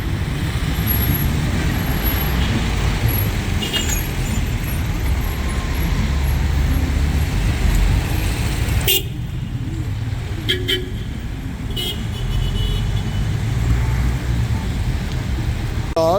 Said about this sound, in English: And then there's Cairo traffic.